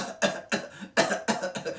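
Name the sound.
man coughing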